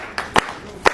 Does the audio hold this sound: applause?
yes